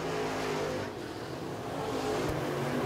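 Crate late model race cars roar around the oval at Clarksville Speedway, a loud continuous engine drone that swells and fades slightly as the field comes off the turn.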